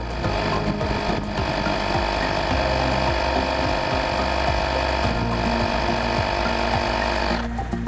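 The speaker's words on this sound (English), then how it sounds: "you flip the power button and the compressor bursts into life" Steady, loud droning hum of an AstroAI CZK-3631 portable air compressor running continuously while inflating, with a rattling mechanical buzz throughout.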